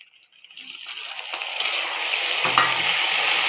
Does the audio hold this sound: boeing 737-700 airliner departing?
no